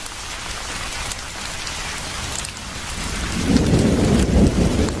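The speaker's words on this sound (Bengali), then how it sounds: "সাথে সাথে প্রচন্ড বৃষ্টি শুরু হলো।" Heavy rain pours in a dense, steady hiss as a cartoon sound effect, with a low rumble of thunder swelling louder toward the end; no voices are heard.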